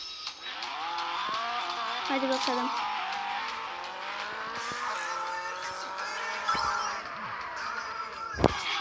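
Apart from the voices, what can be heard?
car engine and tire squeal from a video game racing game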